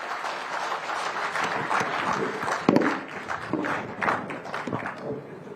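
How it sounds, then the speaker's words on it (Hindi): An audience at a Haryana government inauguration event claps in a dense burst of applause that swells and then tapers, with scattered individual claps standing out. "तालियां जरा जोरदार आप सबकी तरफ से।"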